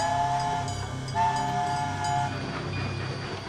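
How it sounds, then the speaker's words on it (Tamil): A cartoon train rumbles nearby with a steady low roar, while its horn sounds in two short blasts over the rolling noise. "ட்ரெயின்ல ஏறிக்கங்க"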